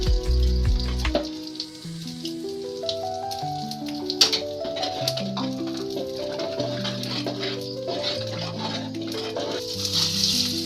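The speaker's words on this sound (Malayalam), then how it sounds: "വറുത്ത മുളക്, കടുക്, കറിവേപ്പില ഇതെല്ലാം കോരി നമുക്ക് ഇട്ടാം." Dried chili, mustard seeds and curry leaves fried in ghee for a mango and yogurt pulissery give off a steady, soft crackling sizzle with scattered pops, heard under background music.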